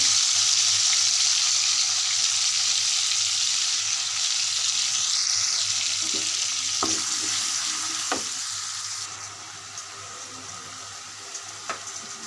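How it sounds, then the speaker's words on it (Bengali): Ground onion, garlic and cumin paste frying in a pan for a dish of eggplant, stems and potato with dried hilsa: a loud, continuous sizzle that gradually softens, with a few faint clinks and no speech. "এখন আমি পেঁয়াজ বাটা দিয়ে দিচ্ছি রসুন আর জিরা বাটা দিয়ে দিচ্ছি"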